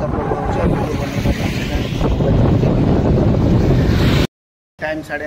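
Heavy rain and wind on a bridge make a loud, constant rushing roar with gusty buffeting against the microphone, cutting out abruptly near the end before briefly returning.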